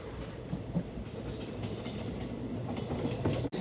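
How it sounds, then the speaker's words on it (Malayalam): A passenger train bound for Kozhikode rolls along with a steady low rumble and rhythmic clickety-clack of wheels, heard from inside a carriage, ending in a sudden loud burst. "നമുക്ക് ഫൈനലി ട്രെയിൻ കിട്ടി ഗൈസ്."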